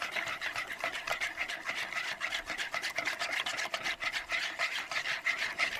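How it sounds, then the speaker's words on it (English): A whisk rasps through blue roasted cornmeal mush in a steady, close, rhythmic scrape of quick repeated strokes, with no voices. "we will use the whisk to mix this up"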